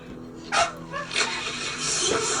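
A dog shut inside a house gives a few short barks mixed with high whimpers and yips, irregular and fairly close, with a steady background hum underneath.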